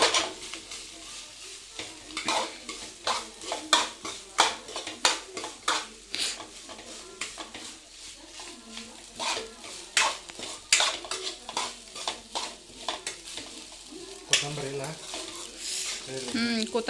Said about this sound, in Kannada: ಎಣ್ಣೆ ಒಳಗೆ ಫ್ರೈ ಆದ್ಮ್ಯಾಗ ರೈಸ್ ಹಾಕ್ಬಿಟ್ಟು ಮಿಕ್ಸ್ ಮಾಡ್ಕೊಬೇಕಾಗ್ತೈತಿ